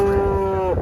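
A wild-natured heifer cow, now a mother of two calves, lets out a single loud, close moo held steadily for most of a second before trailing off.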